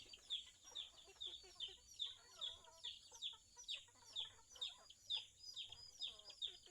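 Chickens cluck in a steady, repeating rhythm of short high calls, fairly close, with faint background noise and little else.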